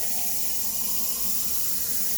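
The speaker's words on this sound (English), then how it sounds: "I'm going to add a bit more water." Water pours steadily from a tap into a pot of cabbage soup with mushrooms and zucchini, a loud continuous hissing rush with no pauses.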